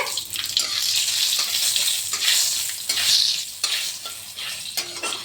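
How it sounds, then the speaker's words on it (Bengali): Spoon stirring kalo jeera, dried red chillies and radhuni tempering sizzling in hot oil in a pan for a bottle gourd leaf curry, loud crackling fry with scraping strokes, no talk. "একটু ভালো করে নেড়ে চেড়ে দেবেন, যাতে একটা সুন্দর গন্ধ বেরোয়।"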